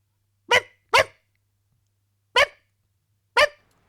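A dog gives four sharp, close barks in a quiet room: two in quick succession, then two more spaced well apart.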